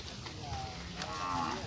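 Gir cattle on a rural Maldhari farm in Gujarat let out a drawn-out moo mid-clip, moderately close and fairly quiet over ambient farmyard noise, followed by a sharp louder sound at the very end.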